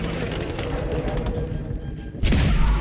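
Laser musket gunfire in Fallout 4 rings out in loud, crackling bursts over a dense game soundscape, with a sharp, heavy blast near the end.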